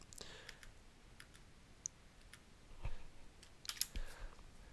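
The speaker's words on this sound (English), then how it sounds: "I'm just going to use my arrow keys to find it" Arrow keys pressed on a computer keyboard while working in a spreadsheet, a sparse series of soft, close clicks at irregular intervals, a few landing in quick pairs, against a quiet room.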